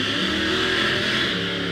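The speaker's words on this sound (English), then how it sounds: "To deal with the hot rod noise." Hot rod cars drive and rev outside, a loud continuous engine roar with rough low rumble and bright upper harmonics, steady throughout without talk.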